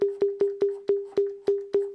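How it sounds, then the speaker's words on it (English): A Roland TR-08 drum machine plays a conga set to a longer decay, eight evenly spaced pitched hits, each ringing out before the next. "You want a longer conga, you can."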